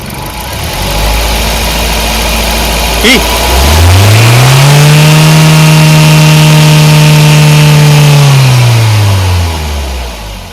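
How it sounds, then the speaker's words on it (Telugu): A petrol Swift Dzire VXi engine revs up from idle, holds a high, loud whine for several seconds, then winds back down. "ఎక్సలెటర్ ఇప్పిద్దాం, బ్యాక్ కంప్రెషర్ని చెక్ చేద్దాం ఇక"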